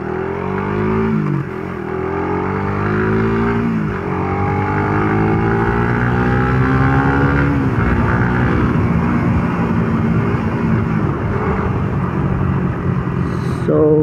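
Motorcycle engine and steady wind rush heard from inside a KYT helmet while riding, a loud continuous drone with the engine note rising and shifting through gears, no talk over it.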